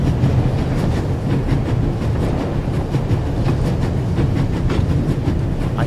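Train carriage from The Raven video game rumbling along the rails, a loud continuous low rumble with faint repeating clicks, steady throughout with no voices.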